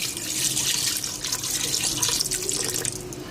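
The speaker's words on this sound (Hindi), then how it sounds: "अब मैं इसमें ऐड करूंगी पानी" Steady stream of water pouring from a tap into a cooking pot, a continuous hissing splash that fills the whole stretch with no talking.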